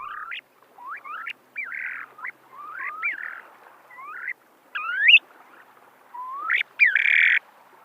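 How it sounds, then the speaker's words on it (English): Western snowy plover calls: a series of short rising chirps and buzzy, squeaky notes, repeated in clusters with brief pauses between them against a quiet background. "Snowy plovers communicate with a variety of sounds and songs."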